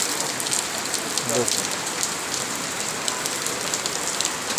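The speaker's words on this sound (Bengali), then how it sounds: "আমাদের করিমগঞ্জ বাজারে বৃষ্টি হচ্ছে।" Rain pours down at the Karimganj market, a dense, loud and continuous hiss of drops striking nearby surfaces, with a brief faint tonal sound partway through.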